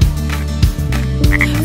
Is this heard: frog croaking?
yes